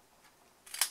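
Scissors snip paper while making a bookfold tealight gift box, a few quick, close cuts coming late after near silence, the last one sharp and bright.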